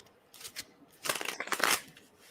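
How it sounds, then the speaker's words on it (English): Playing cards are shuffled close by, a soft flutter followed by a quick riffle of papery snaps. "But let me do a shuffle."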